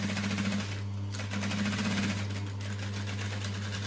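A sewing machine runs a steady stretch of stitching along the bottom of a vinyl pouch at a 2.5 stitch length, a close, continuous whirring with a fast, even needle rhythm and no talk.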